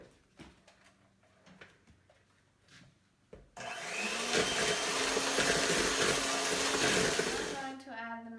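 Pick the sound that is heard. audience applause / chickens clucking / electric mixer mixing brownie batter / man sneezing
electric mixer mixing brownie batter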